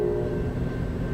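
Amtrak passenger train passing through a Kalamazoo, Michigan station, a steady low rumble of rolling cars with a faint sustained tone above it.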